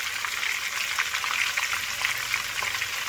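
Chuck roast searing in about half a cup of olive oil in a hot pan, a steady dense sizzle and crackle of frying holding loud and even throughout with no talking.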